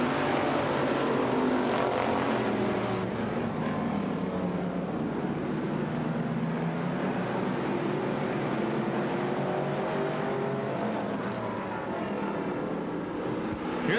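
Race cars roar around the Silver State Raceway track during the Desert Rose Classic, a dense, sustained engine drone heard at a distance, steady in level with rising and falling pitch as the cars pass.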